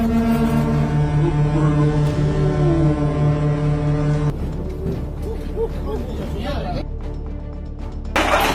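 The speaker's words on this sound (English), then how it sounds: "A train has to honk its horn several times." A train horn blares in long sustained tones for several seconds, loud and close, then cuts off into rumbling track noise and scattered clatter before another loud burst at the end.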